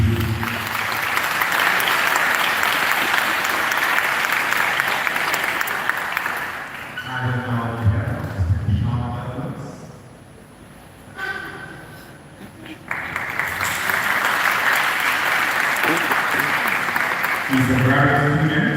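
Audience applause at a university Faculty of Science and Technology award ceremony, loud clapping swelling, dropping away while a voice talks in the middle, then returning strongly for the closing stretch.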